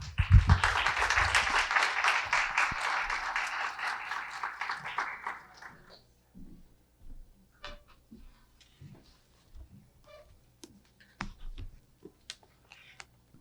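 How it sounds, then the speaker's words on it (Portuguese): Applause from an evening talk audience welcoming a guest speaker: steady clapping for about six seconds that stops abruptly, followed by faint scattered taps and clicks in a quiet room. "vamos receber com palmas a nossa convidada da noite, a professora Márcia Cavalcante."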